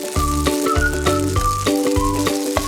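Noodles sizzle and crackle in a hot wok over moderate heat, with repeated scraping and clattering of a utensil against metal as they are tossed.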